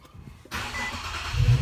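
A car engine starts abruptly from near silence, catching into a steady close rumble that swells louder toward the end.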